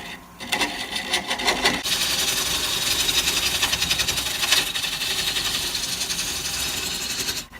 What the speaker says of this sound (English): That little tool is cutting really good right there.